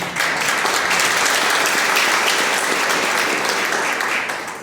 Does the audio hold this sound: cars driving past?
no